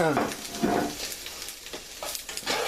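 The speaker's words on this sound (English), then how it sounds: "I'll go ahead and add the garlic in" Garlic sizzles in a hot pan of Tuscan chicken, a steady broadband frying hiss with a few brief clinks and scrapes, close and moderately loud, no voices.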